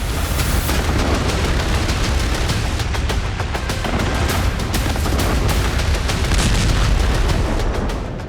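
Missiles strike Crimea at midnight, producing a continuous, loud barrage of rumbling booms and crackling blasts that blur into one heavy roar without any voices.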